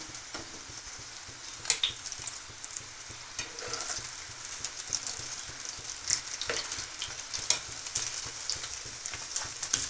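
Wheat-flour flatbreads with onion and carrot shallow-fry in oil on a pan, giving a steady, close sizzle dotted with sharper crackles and pops throughout, with no voices.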